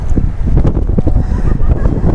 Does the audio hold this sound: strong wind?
yes